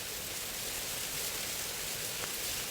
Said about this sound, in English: Sarah, you can hear from the microphone the heavy rain coming through.